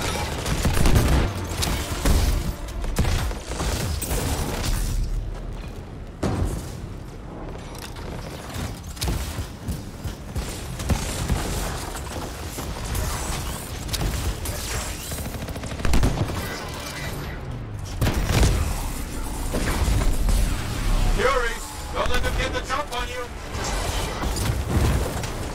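Dense, continuous gunfire from the video game Anthem on PC: rapid volleys, bursts of automatic fire and occasional booms and mechanical clatter, with people talking over the action.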